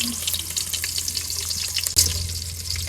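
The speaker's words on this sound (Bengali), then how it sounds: "তেল দিয়ে দিলাম কড়াইতে, পেঁয়াজ কুচি দিয়ে দিলাম," Steady frying crackle of chopped onion in hot oil in a wok, a dense hiss with scattered pops, plus a low hum and a brief clatter near the end.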